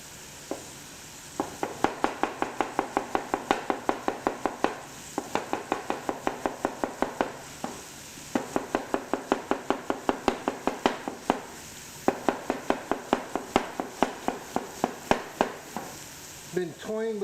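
Onions being chopped with a knife on a board in a home kitchen, a rapid steady series of close, crisp cuts in several long bursts with short pauses between them.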